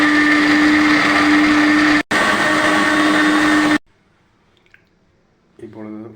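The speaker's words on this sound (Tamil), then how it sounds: "மிக்சியை ஓட விட வேண்டும்." A mixer grinder blends pomegranate into juice with a loud, steady motor whine that runs for almost four seconds with a brief break. It then stops abruptly and is followed by near silence and a short voice at the end.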